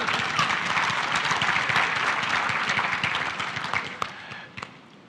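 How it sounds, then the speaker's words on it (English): Audience clapping at a Pennsylvania policy conference panel, a full burst of applause that thins out and tapers off toward the end with a few last scattered claps. "You're allowed to applaud."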